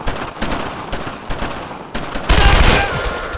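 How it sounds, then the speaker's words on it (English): Loud, rapid gunfire fills a World War II squad battle in Brothers in Arms: Road to Hill 30, with repeated bursts followed by a heavier, sustained volley near the end. "No one stops firing!"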